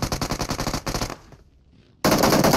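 Gunfire in the video game PUBG Mobile: rapid automatic machine-gun bursts, loud and close, break off into a brief quiet gap, then resume at full force.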